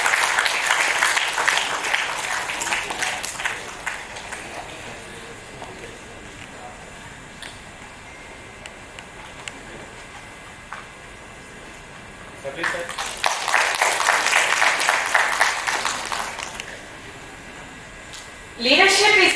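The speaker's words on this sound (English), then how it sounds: "Kindly welcome him with a warm round of applause" Audience applause welcomes a professor at a jubilee celebration ceremony, heard as a sustained round of clapping at the start, a second strong burst partway through, and another onset at the end, with quieter room sound in between.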